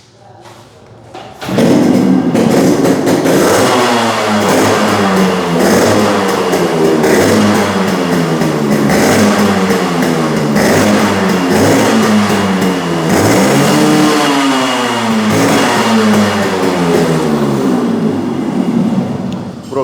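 A Yamaha RX-series two-stroke motorcycle, in a Chennai restoration and service workshop, fires up after a short quiet start and then runs loud and steady close by, its revs rising and falling repeatedly through the rest of the clip.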